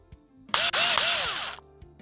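A power screwdriver drives screws into the window lifter structure of an Alfa Romeo 159, giving one loud, close whirring burst of about a second with a brief stutter near its start.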